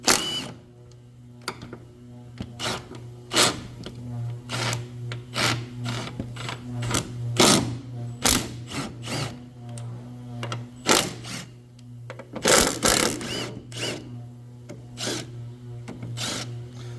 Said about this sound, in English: I'm going to go ahead and loosen up every bolt